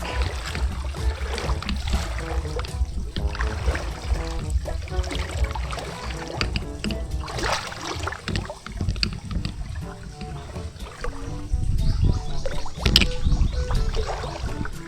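Shallow river water flows steadily with a continuous, moderately loud rushing and gurgling wash and no voices, in a river where fish traps are being set.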